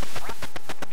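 Duck quacks from the NES game Duck Hunt, a rapid run of about eight short, evenly spaced squawks over one second, loud and alone with no talk.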